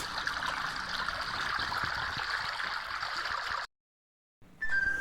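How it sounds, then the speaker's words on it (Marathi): Water babbles steadily as it flows through bushes, a continuous close trickling wash that cuts out abruptly near the end before a brief bright tone. "झाडीतून वाहत येणारं आणि खळखळणारं पाणी"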